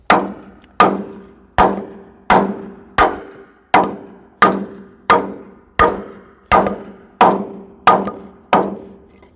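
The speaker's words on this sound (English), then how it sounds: "You're going to need to use that big hammer." A big hammer strikes a part into the cylinder of a 25-foot man-lift during a rebuild, about thirteen loud, sharp metallic blows at a steady, even pace, each ringing briefly before the next.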